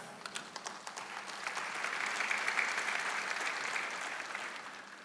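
An online church service congregation bursts into applause. Scattered early claps swell into steady, moderately distant clapping that keeps going for several seconds.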